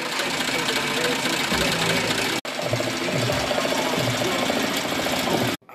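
Embroidery machine stitching a cartoon patch with a fast, steady mechanical chatter, close and loud, pausing very briefly once before resuming.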